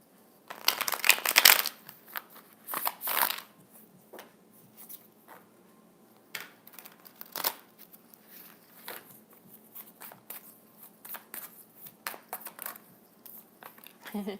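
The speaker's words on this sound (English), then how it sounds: "That was at the bottom of the deck when I started shuffling." A deck of tarot cards being shuffled by hand: a burst of loud riffling near the start, then a long stretch of softer, irregular card slides and flicks, close up and without speech.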